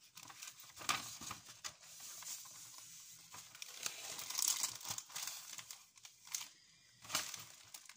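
Packaging around a canvas being opened by hand, with a run of crinkling, rustling and tearing sounds, some sharp close crackles and quieter handling between them.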